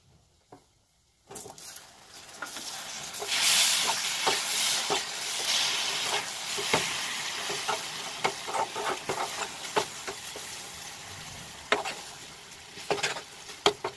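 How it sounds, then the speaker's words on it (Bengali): Amla (Indian gooseberries) being stirred in melted jaggery in a pan, a steady sticky sizzle with repeated scraping strokes of the spoon, close and moderately loud after a brief quiet start. "এইভাবে বেশ কিছুক্ষণ সময় নিয়ে এগুলিকে নাড়াচাড়া করতে হবে"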